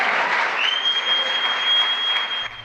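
Crowd at a White House event cheers and applauds, with a sustained wash of clapping and a piercing whistle held over it, loud and continuous until it cuts off.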